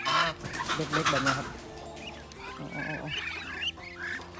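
Several breeder geese honk loudly and repeatedly at close range on a poultry farm, mixed with other poultry calls, while someone speaks briefly over them.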